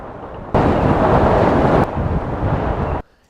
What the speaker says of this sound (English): It's freezing cold, windy as hell, and the rain just keeps coming.